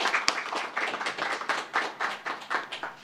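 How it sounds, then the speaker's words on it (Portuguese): A church congregation claps along in a steady rhythmic beat, close and lively, with no voices over it. "Vamos aplaudir o Senhor Jesus?"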